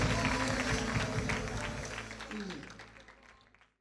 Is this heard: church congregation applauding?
yes